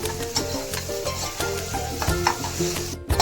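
Onions frying in a pan and being stirred before tomatoes go in, loud close sizzling broken by rhythmic scraping strokes of a spatula, with a sharp knock near the end.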